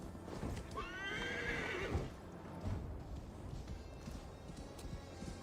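A horse in the video game Assassin's Creed Valhalla gives one loud, clear whinny over steady outdoor ambience, followed by soft hoof sounds and a low snort, with no talk.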